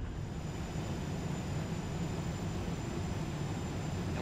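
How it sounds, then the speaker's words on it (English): A propeller fighter plane flies past in the IL-2 1946 flight combat game, a steady loud engine roar droning evenly throughout with no clear rise or fall. "there's a flyby of our brave wingman"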